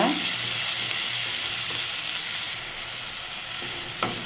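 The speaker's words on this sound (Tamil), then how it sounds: "வெங்காயத்தை சேர்த்து நல்லா வதக்கிக்கோங்க" Chopped onions sauté in a pan for kothu chapati, giving a loud continuous sizzle up close that eases slightly midway, with a single clink of a utensil near the end and no voices.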